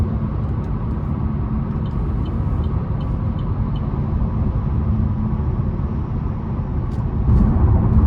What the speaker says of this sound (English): the road noise in this thing is pretty decent as well. Not overly loud, not intruding on the cabin